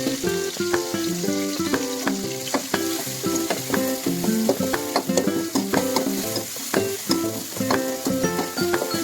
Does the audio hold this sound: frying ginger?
yes